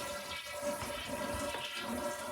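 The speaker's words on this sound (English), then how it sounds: "Then you want to go ahead and flush the toilet" A toilet flushes with its water supply shut off to drain the tank during a replacement, giving a steady close rushing and gurgling of water throughout.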